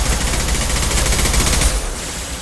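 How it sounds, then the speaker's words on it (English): Concussive shots fired in the video game Mass Effect 2, a loud sustained barrage of dense overlapping blasts and rumbling impacts that eases off near the end, with no voices. "Firing concussive shots!"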